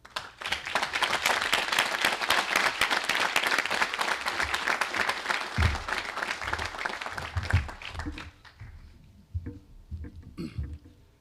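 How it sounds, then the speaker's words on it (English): An audience at a correctional academy graduation ceremony applauds warmly for several seconds, a dense steady clapping that thins out toward the end, leaving a few scattered claps and faint room noise. "Please join me in a round of applause"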